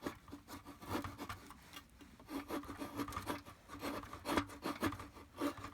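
A knife shaves feather sticks from wood for kindling at a winter campsite, making repeated close rasping scrapes in an irregular rhythm of short strokes, heard alone.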